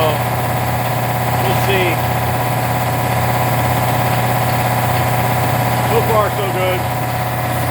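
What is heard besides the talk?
air compressor motor running with new pump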